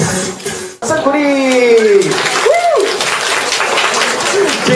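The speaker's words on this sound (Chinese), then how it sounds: "掌声鼓励" An audience applauds at a hospital handwashing dance contest staged by nurse teams, a steady wash of clapping under a voice and rising, sliding tones.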